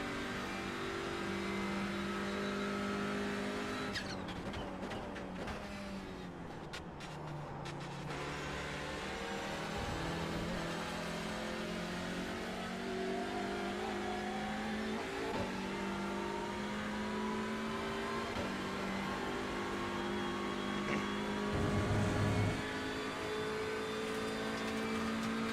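TCR touring race car engine in the sim racing game iRacing at Road Atlanta, a steady droning engine with shifting revs and gear changes, continuous and fairly loud with no talk.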